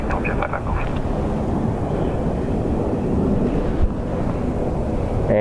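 A plane departs Dublin Airport on a windy day, a broad steady roar of jet engine noise blended with heavy wind rumble on the microphone, holding at an even level throughout.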